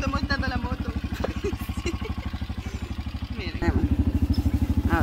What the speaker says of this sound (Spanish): Aquí me estoy montando la moto.